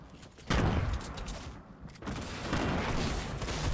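Bursts of gunfire in a first-person shooter match, dense crackling volleys that erupt loudly after a brief quiet start, dip for a moment, then resume as sustained rapid shooting.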